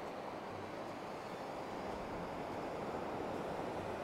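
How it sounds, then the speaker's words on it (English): Ocean waves wash steadily onto a quiet beach on Koh Samet Island, Thailand, heard as a constant broad rushing hiss with breeze noise and no voices. "Just check out the waves."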